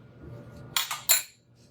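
Close, bright clinks of a metal spoon against a cup as a spoonful of powder is scooped in, two quick taps after a brief quiet shuffle.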